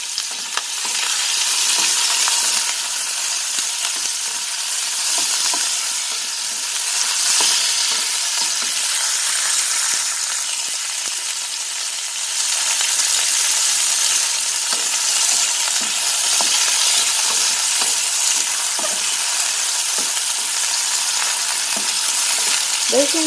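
Chicken pieces fry steadily in hot oil with garlic, onion and ginger, a loud, continuous sizzle holding throughout with occasional stirring scrapes and no talk over it.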